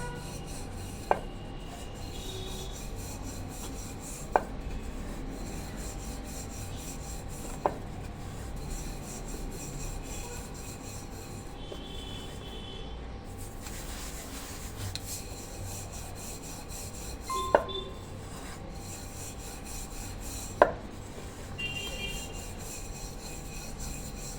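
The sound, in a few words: rolling out tilgul poli flatbread dough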